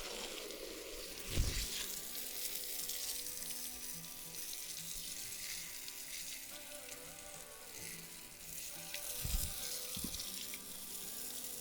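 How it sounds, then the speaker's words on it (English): A hose sprays water over a motorcycle chain outdoors, a steady hissing spray at moderate distance with a couple of brief, louder splashes as the stream shifts against the parts. "I'm going to hose down my chain, make sure I get all the products that I've used off"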